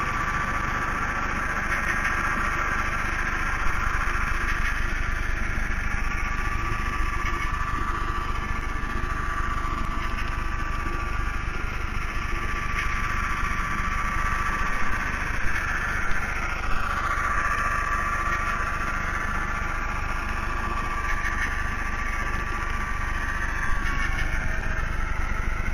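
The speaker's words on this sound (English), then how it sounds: "The engine has just notched down a couple of notches as we're now on the flat" Model railway locomotive engine on a layout notching down as the line flattens, a steady close droning rumble that holds constant with faint shifting tones above it.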